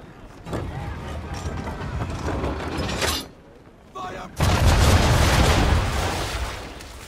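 Ship cannons fire in Assassin's Creed 3 during a naval battle, loud booming volleys with a sudden heavy broadside burst near the end, layered over creaking ship sounds and shouting voices.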